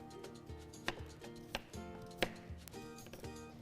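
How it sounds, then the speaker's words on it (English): Knife chopping cucumbers into slices on a kitchen board, with a few sharp distinct chops standing out over a quiet background of faint tonal hum. "then I'm going to finish chopping up my cucumbers here."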